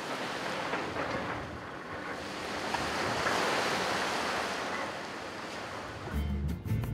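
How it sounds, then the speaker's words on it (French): Strong swell and heavy sea waves surging in a harbour on the Italian island of Ponza, a steady broad roar with wind noise that swells and eases, with a brief clatter near the end. "Lorsque la houle est forte et que les vagues font tanguer les bateaux de pêche"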